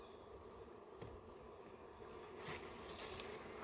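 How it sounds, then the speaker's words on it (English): Honey bees buzz in a faint, steady drone during a hive removal, a low hum with a few louder swells toward the end and no talk. "Get these bees down in here."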